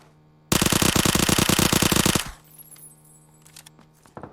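A full magazine emptied in one rapid automatic burst in the PUBG video game, loud and close, lasting about two seconds, then cut off and followed by faint clicks and mechanical handling noises.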